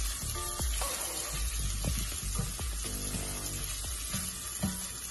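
Sausage for jambalaya searing in a hot pan, a continuous close sizzle and spitting hiss with scattered crackles and light clinks, no talking.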